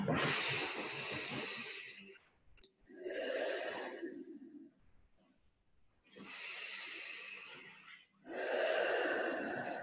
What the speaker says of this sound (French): On prend 2 respirations.